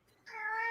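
A cat gives a single drawn-out meow that starts abruptly after a brief quiet moment and swells steadily, close and clear, with no talking.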